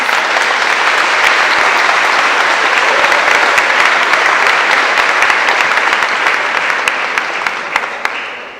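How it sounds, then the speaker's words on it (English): A conference audience in Lisbon gives a speaker a warm welcome with sustained, dense applause that fills the room, then thins toward the end. "Let's give her a warm round of applause."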